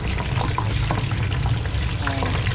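Pork belly for lechon kawali deep-frying in a pan of hot oil, a steady loud sizzle throughout with small pops and spatters, a short clatter near the end.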